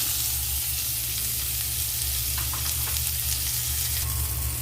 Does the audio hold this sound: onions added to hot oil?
yes